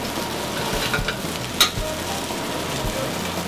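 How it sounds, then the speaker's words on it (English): Hot caramelized fennel lobster broth sizzles as it is ladled into a risotto pan, a steady crackling hiss punctuated by a sharp clink partway through and soft stirring scrapes. "You can hear the sizzle when the hot stock hits the pan."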